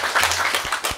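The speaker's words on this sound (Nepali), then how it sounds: "जोरदार ताली" Loud applause from an audience at a Nepali dohori song event, a dense, steady wash of clapping filling the whole second.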